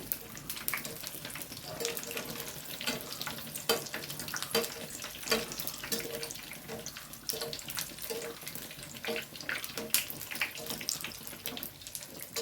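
Pineapple bajji fritters frying in oil, a continuous crackling sizzle with dense sharp pops and bubbling, close and steady with no talk.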